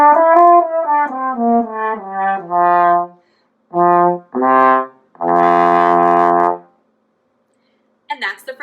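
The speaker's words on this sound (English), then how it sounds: "And that's the French horn." French horn playing a sequence of sustained notes, first a quick descending run, then several longer held tones separated by brief silences, close and fairly loud with no talking.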